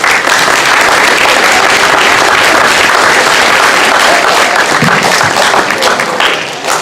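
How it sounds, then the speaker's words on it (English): An audience at an 8th grade moving-up and awards ceremony applauds, loud dense clapping that runs steadily throughout and tapers slightly at the end. "You all deserve to give yourselves a great big round of applause."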